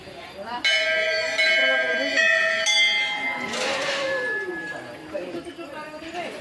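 Metal temple bells ringing at Maa Ghanteswari temple, several bright overlapping strikes in the first seconds that ring on and fade, with crowd murmur and voices talking underneath.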